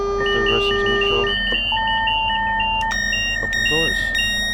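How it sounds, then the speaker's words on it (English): A Class 395 high-speed train cab in Train Sim World 4 beeps through its start-up checks, giving a series of steady electronic tones at shifting pitches over a low hum, with a brief vocal sound near the end. "All that beeping you just said was a train going through its checks."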